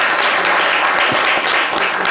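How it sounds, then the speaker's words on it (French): A studio audience applauds loudly and steadily on a live radio or television call-in show, the dense clapping filling the whole two seconds with no voices over it. "est-ce qu'on peut applaudir bien fort Doumia, s'il vous plaît?"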